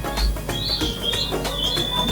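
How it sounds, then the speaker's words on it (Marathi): Pigeons in a loft, with a busy run of high chirps and short rising calls repeating over steady low background noise, close and fairly loud. "त्यांचे पण चांगले कबूतर आहेत"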